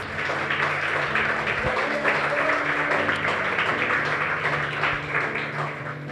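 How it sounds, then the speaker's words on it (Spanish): Church congregation applauding, a dense, continuous wash of many hands clapping together, loud and sustained across the whole span with a low hum beneath. "Denle ese aplauso a nuestro Dios."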